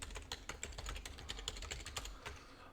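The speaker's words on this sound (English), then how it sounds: "I'm going to type in the fully qualified domain name of my vCenter server." Rapid typing on a computer keyboard while entering a server domain name, with a steady run of close, crisp key clicks and no talking.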